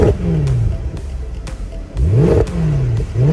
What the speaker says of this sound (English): So I really like the exhaust.